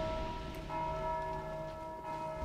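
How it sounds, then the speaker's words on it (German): Bell in Dark Souls II struck again and again by a bell ringer, its sustained metallic tone ringing steadily throughout at moderate loudness with no speech over it. "Hier steht ein Typ, der die ganze Zeit diese Glocke haut."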